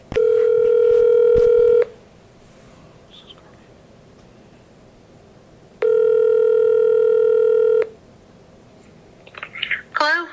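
Telephone dialing before a call to a township board trustee: a long steady dial tone, quiet pause, a second identical tone burst, then brief faint rustling at the end.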